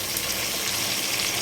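Okra and other vegetables sizzle gently in a little oil in a pan while cooking sambar, a soft, continuous frying hiss that stays faint throughout.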